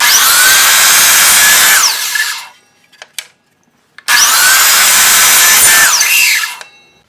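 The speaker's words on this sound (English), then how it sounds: "So I'm going to just cut all my pegs now exactly the same length because I've used this stop block." Power saw cutting wooden pegs to length against a stop block: two loud, sustained cutting bursts of about two seconds each, separated by a brief quiet gap with a few small knocks.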